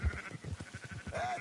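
A sheep bleats in the video game Red Dead Redemption II, a close, wavering series of pulsed bleats lasting about a second, heard alone without talk.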